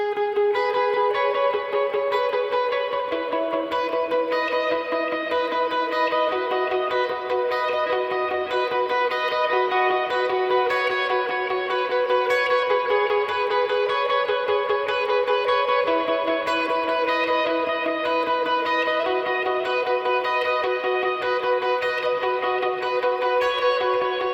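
An electric guitar plays a steady sequence of ringing chord shapes, one chord flowing into the next, with no voices.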